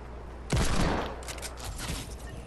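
Pistol fire in a Team Rumble match of an online shooter game, one loud close burst of shots followed by a lingering noisy tail, heard alone without talk.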